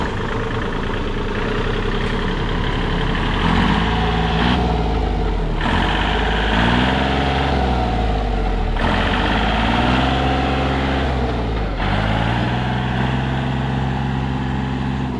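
A used Kubota L1-225 tractor, fitted with 105 cm wheels for working between sugarcane rows, runs steadily while being driven. The engine note is loud and continuous, and its pitch rises and falls a few times with changes in revs.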